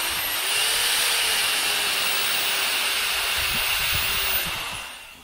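Power drill boring holes in the steel roof of a 1972 Chevy Nova for a dent puller, a steady high whine held for several seconds before tapering off.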